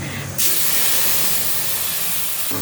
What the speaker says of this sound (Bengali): গোটা গরম মশলা ফোড়ন দিলাম আর এখানে টমেটো কাঁচা লঙ্কা আর আদার পেস্টটাকে